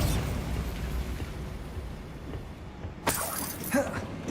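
A Bombarda spell explosion in Hogwarts Legacy, heard as a sharp burst near the three-second mark with a second smaller pop just after, over a steady rumbling game background.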